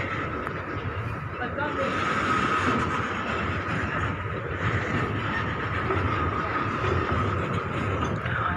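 Thai special express train 7 passing through Chum Saeng station, a steady rumbling, rushing noise at moderate distance that holds for several seconds, with someone talking over it.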